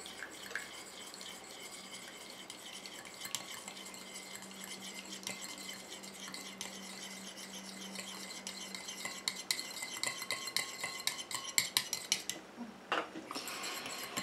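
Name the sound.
stirring a cosmetic cream emulsion in a small container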